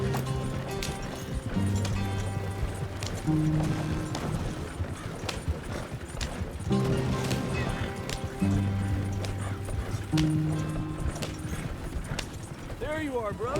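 Hooves of a horse galloping in Red Dead Redemption 2 drum in a steady, rapid rhythm close by, running beneath a swelling musical score with occasional heavier thumps.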